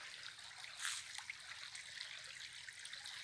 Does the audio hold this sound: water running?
yes